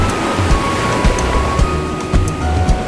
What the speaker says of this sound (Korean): 파도가 점점 세지는데?